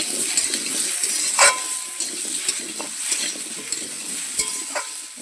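Sliced onions sizzling in hot oil in a pan with Malabar spinach stems, a steady close frying hiss broken by occasional clinks and scrapes of a stirring spoon, with no voices.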